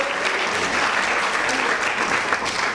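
An audience claps steadily and densely throughout, a sustained round of applause at even loudness with no voices standing out.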